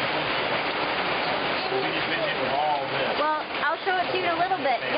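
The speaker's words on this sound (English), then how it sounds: "we've been here for like an hour because it's raining so hard" Heavy rain pours steadily outside a shelter, a dense continuous hiss, while people talk and a voice rises over it.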